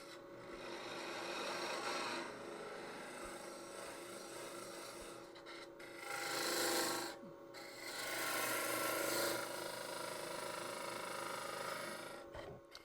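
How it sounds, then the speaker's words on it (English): Steady rasping of a woodturning tool edge being sharpened to restore its burr, with loudness swelling in a couple of strokes of grinding or honing, close and continuous with no talking. "Let me go do some sharpening on this to reestablish that burr."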